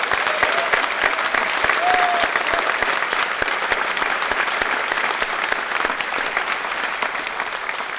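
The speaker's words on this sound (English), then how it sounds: "One more round of applause" Sustained audience applause at a superintendent's opening day ceremony, a dense, steady roar of many hands clapping that fills the room evenly from start to finish, with a brief faint whistle or voice lifting over it.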